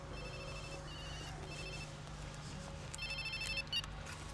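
A telephone rings in a home several times in repeated electronic bursts, moderately quiet over a steady low background hum.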